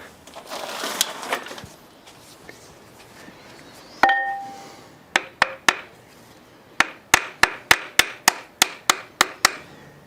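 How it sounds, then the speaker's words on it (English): Sharp metallic hammer taps on a 1981 DeLorean engine part during a teardown, one hard strike followed by a string of evenly spaced, close, ringing knocks. "Let's give it a little tap, see if it'll come apart."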